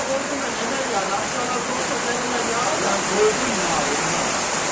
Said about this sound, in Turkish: Ağlıboğaz'da güzel yağmur yağıyor arkadaşlar.